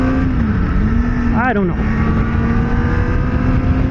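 Kawasaki Ninja ZX-4RR 399 cc motorcycle engine revving while standing still, one short rising-and-falling rev over a steady idle, loud and close, with someone talking over it.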